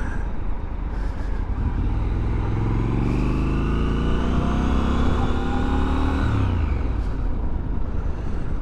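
A 2023 Triumph Scrambler 1200XE Chrome riding along, its exhaust close to the rider, a steady engine drone rising in pitch through the gears and dropping back near the end, with wind noise throughout.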